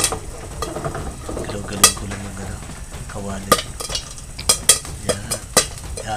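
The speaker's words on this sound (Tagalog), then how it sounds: "Pero, galaw-galaw ko lang yung kawali." A kawali (wok-style frying pan) shifted and stirred during home cooking, giving scattered metallic scrapes and clanks over a faint low background with no talking.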